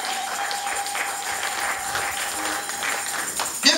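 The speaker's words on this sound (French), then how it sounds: "Est-ce qu'on peut acclamer pour cette parole?" A church congregation applauding after a sermon passage, a dense continuous clapping that stays steady throughout, with a short voice rising at the end.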